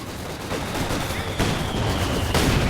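Dense, rapid machine gun fire and scattered shots crackle continuously in a Company of Heroes 2 battle between Wehrmacht and OKW and British and US forces, loud and busy, with a game soundscape underneath.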